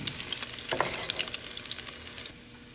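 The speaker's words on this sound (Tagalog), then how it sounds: "Kailangan pa-brownie natin yung bawang." Garlic fries in a pan for Filipino beef steak, a close crackling sizzle with soft rhythmic stirring scrapes that ease off near the end, no talk.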